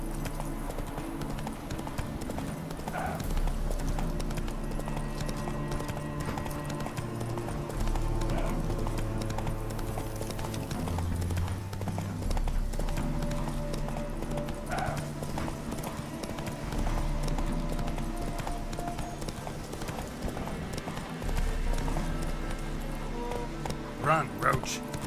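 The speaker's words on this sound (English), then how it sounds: "Run, Roach." Hooves of a galloping horse ridden in The Witcher video game beat in a steady, rapid clip-clop rhythm with occasional snorts, accompanied by background game music and a voice talking over it.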